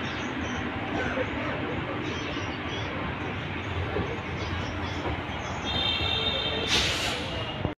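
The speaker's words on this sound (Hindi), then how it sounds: "अपनी ट्रेन बनारस से जस्ट रवाना होते ही आउटर पेन स्लो हो चुकी है" The Bundelkhand Express, a passenger train hauled by a WAP-4 locomotive, rolls slowly out of Banaras, heard from inside a general coach as a steady, loud rumble and rattle with a brief high squeal near the end.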